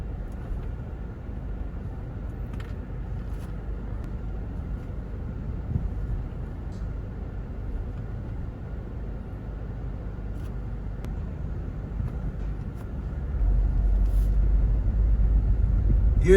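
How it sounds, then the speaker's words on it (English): A car climbing the ramp into a rooftop parking garage at a Harbor City marketplace, a low steady engine and road rumble from inside the cabin that swells louder near the end, with no talk. "Here's a lovely drive up into the rooftop parking here in Harbor City."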